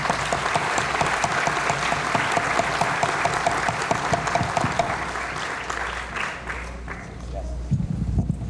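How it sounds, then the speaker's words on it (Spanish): Audience applause welcoming a speaker at a talk on protecting biodiversity threatened by climate change, a loud steady burst of clapping that fades after several seconds, with faint voices under it. "Lo recibimos con muy fuertes palmas en este momento."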